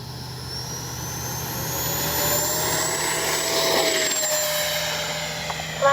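A small RC model jet, a Freewing Banshee 64mm, whines steadily on takeoff with a rising high-pitched tone, building in loudness over several seconds, with a constant low hum underneath.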